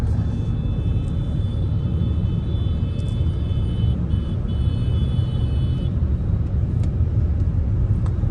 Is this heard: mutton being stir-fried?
no